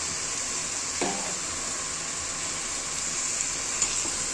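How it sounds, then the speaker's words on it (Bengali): Spinach frying in a pan with chili powder, stirred with a utensil: a steady close sizzle throughout with a few soft scraping stirs, no talking. "নাড়াচাড়া করে দিব"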